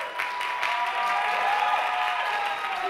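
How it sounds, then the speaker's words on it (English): Applause from a church congregation during a sermon, a dense steady wash of clapping with faint crowd noise under it, lasting a few seconds. "Don't clap yet."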